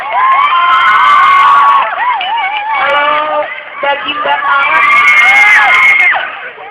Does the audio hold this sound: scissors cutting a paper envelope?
no